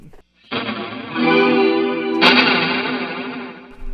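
Electric guitar played through reverb and chorus pedals in an unusual pedal order, a sustained wash of chorused, echoing notes swelling after a brief silence and staying loud with a bright re-strike partway through.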